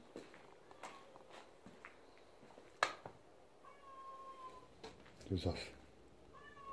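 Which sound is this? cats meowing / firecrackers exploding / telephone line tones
cats meowing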